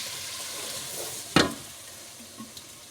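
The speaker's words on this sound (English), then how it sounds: "While our tomatoes is frying." Tomatoes frying in a pot for Nigerian party stew give a steady soft sizzle throughout, with one sharp louder clatter near the middle and a couple of faint knocks later.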